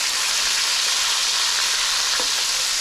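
Fish fries in hot oil for biryani, a steady, loud, broadband sizzle that continues without pause, with a faint tap partway through and no voices.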